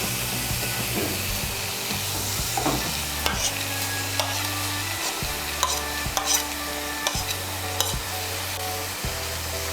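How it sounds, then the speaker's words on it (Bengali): Spice masala with tomato paste stirred and fried in a pan, a steady close sizzle with repeated scraping strokes of a spoon running throughout, no talking. "টমেটো বাটাটাকেও মিশিয়ে নেব। মিশিয়ে নিয়ে মশলাটাকে ভালো করে কষিয়ে নেব।"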